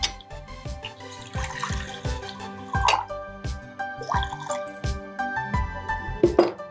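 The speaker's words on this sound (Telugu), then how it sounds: "స్టవ్ ఆన్ చేసేసుకొని వాటర్ వేసుకోండి." Water splashes and drips into a pot on a stovetop in a home kitchen, a series of irregular close liquid plops and trickles with no talk over them.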